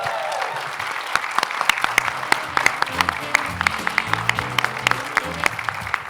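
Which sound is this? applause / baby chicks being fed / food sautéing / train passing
applause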